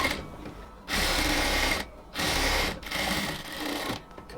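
A sewing machine stitching a blouse runs in three loud, steady bursts separated by short pauses, close up, with no talking.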